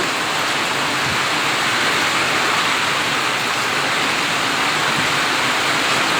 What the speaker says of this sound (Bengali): বৃষ্টি শুরু হয়েছে এবং হালকা বাতাস রয়েছে জড়ো হাওয়া রয়েছে এবং বৃষ্টি পড়ছে